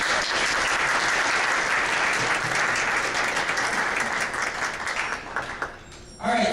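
A mock parliament assembly applauds itself, dense sustained clapping from many hands that holds steady, then thins and breaks off near the end as a voice resumes.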